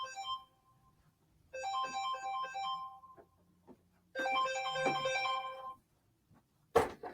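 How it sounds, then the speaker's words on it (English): A phone ringtone plays in a melodic electronic pattern, sounding in three separate bursts with short pauses between them, loud and alone with no talking over it. "My other phone ring."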